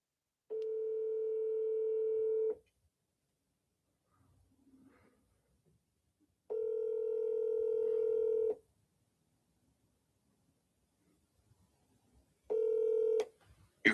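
A landline-style telephone sounds a steady dial tone in three separate long bursts, the last one cut short by quick dialing tones, while a faint clatter of handling fills the quiet gaps between.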